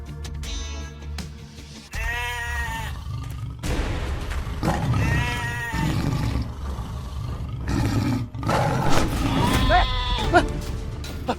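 Loud, harsh bleating calls repeat up close several times, mixed with roaring growls and a busy, noisy background.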